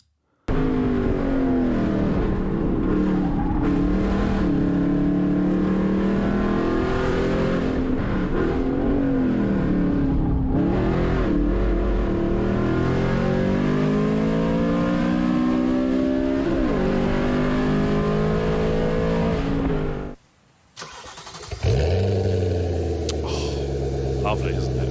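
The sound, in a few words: manual Audi RS4 B7 4.2 V8 exhaust revving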